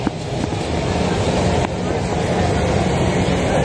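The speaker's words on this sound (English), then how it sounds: "The train's going by." Disney World monorail passing near the Contemporary Resort, a loud sustained rolling rumble and whine close by, with crowd chatter and voices underneath.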